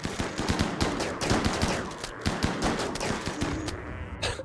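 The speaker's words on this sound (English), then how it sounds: "The chain shotguns are absolutely wrecking these Thrumbos." Chain shotguns in the RimWorld video game hammer away in a dense, rapid series of loud shots, firing almost continuously at hunted Thrumbos before easing off near the end.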